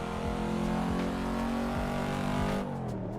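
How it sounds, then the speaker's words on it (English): Volvo five-cylinder engine with a catless exhaust, revving hard in a steady, raspy roar close by that drops back near the end of the rev. "the 5-cylinder sounds so cool. I have a catless exhaust"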